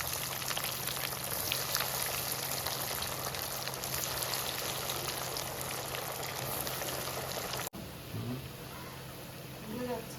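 Fish cutlets frying in hot oil, a steady dense sizzle that holds loud and even before dropping abruptly near the end to quieter bubbling.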